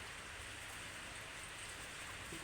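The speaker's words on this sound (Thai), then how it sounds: "ฝนมันตกครับ" Rain falls steadily as a faint, even hiss of drops, a continuous wash of patter with no voices over it.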